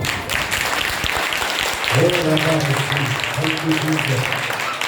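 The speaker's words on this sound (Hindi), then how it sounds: "उस परमेश्वर के लिए जोर से ताली बजाएं।" Congregation clapping at a Sunday church service, continuous applause with raised voices and a sung or shouted tone rising over it partway through.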